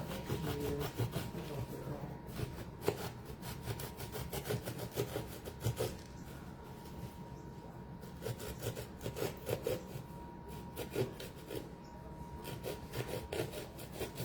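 Sandpaper works over a sculpted clay skeleton pail in close, steady rasping strokes that repeat in a dense, uneven rhythm with no pauses.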